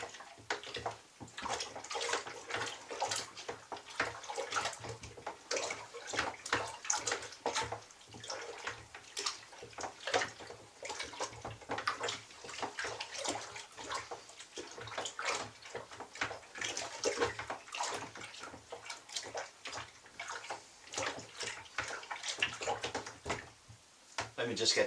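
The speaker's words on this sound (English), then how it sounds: "This still needs a good stir, there's still some undissolved honey." Honey-laden mead must sloshed and stirred in a fermenting vessel, a steady wet swishing and splashing that runs continuously and fairly close throughout.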